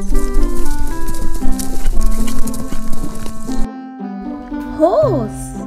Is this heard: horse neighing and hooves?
yes